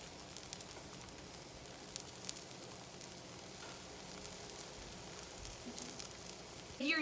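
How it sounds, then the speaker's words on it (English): Matzo brei fries in a frying pan, giving a faint, steady crackling sizzle throughout, with a brief louder clatter right at the end. "That nice sizzle."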